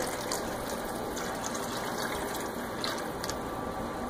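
Water pours steadily into a pot of rice being cooked with corn, a continuous close gushing splash that runs unbroken throughout.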